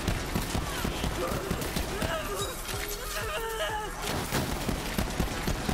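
Rapid gunfire in the Borderlands 3 shooter, dense bursts of shots running through the whole stretch amid game effects and a talking voice.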